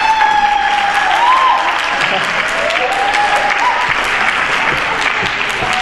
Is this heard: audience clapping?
yes